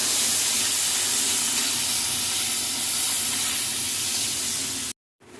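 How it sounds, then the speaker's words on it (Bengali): Prawns, seasoned with salt and a little turmeric, fry lightly in hot oil with a steady close sizzle and hiss that runs unbroken, then cuts off briefly near the end. "চিংড়ি মাছগুলো হালকা করে ভেজে নেব।"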